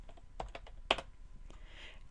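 A spreadsheet formula is typed on a computer keyboard: a quiet run of a few distinct key clicks, one slightly sharper, spaced irregularly, with no talk.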